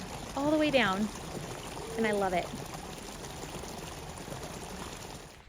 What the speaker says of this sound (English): I always love this stream by these guys' property